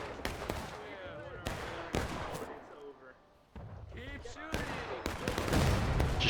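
Musket volleys in the video game War of Rights at Piper Farm crack out as several sharp, loud shots in an uneven rhythm, with distant fire and battlefield noise between them and voices talking underneath.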